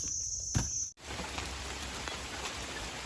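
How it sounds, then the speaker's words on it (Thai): Steady rain falls outdoors in a rural setting during a bamboo shoot harvest, a dense even patter of drops on surfaces that continues without pause after a brief dropout near the start. "ฝนตก พากันลบฝนจ้ะ"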